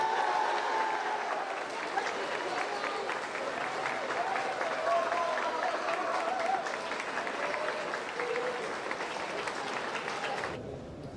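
An award-ceremony audience claps steadily and fairly loudly for a student honoree, the dense applause running throughout before cutting off abruptly near the end, with some voices mixed in.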